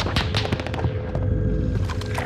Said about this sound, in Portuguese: ali de baixo tem várias pessoas atirando aí vocês